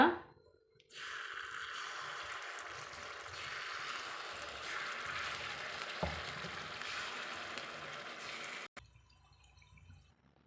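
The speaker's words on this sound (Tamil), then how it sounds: "நம்ம அந்த எண்ணெய் அப்படியே இருக்குங்க நம்மளுக்கு அதுலேயே நம்ம திருப்பி மாவை ஊற்றிக்கலாங்க" Sweet banana paniyaram batter sizzles in hot oil in a pan. A steady, fairly quiet frying hiss starts after a brief pause, runs for several seconds, then cuts off abruptly.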